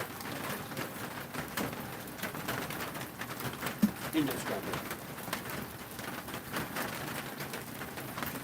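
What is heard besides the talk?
rain falling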